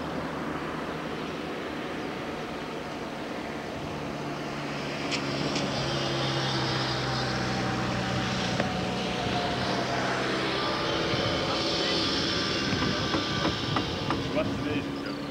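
A big Fox-powered model airplane engine drones steadily, rising louder partway through and holding a continuous buzz while people talk nearby outdoors.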